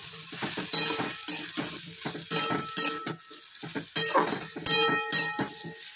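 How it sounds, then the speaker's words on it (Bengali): Drumstick vegetable is stir-fried in a pan without oil, a soft sizzle under repeated scraping and clattering strokes of a spatula, close and uneven in rhythm. "চলো সবজিটা দেখো ভাজা হয়ে গেছে"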